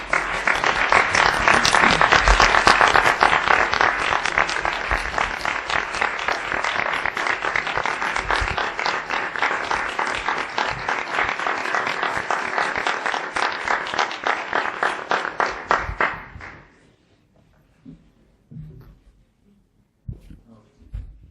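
An audience at a state education board meeting applauds Patrick, a loud, sustained round of clapping lasting about sixteen seconds before cutting off sharply into near silence with a few faint sounds.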